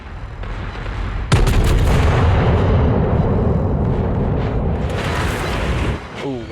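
Warship main guns fire in World of Warships with a heavy, booming blast that rolls on as a long rumbling roar for several seconds before trailing off. It is loud and close.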